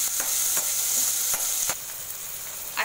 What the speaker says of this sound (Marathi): फ्रेश मटार असल्यामुळे, फ्रोझन मटार नसल्यामुळे थोडा वेळ जरा असे परतायचे.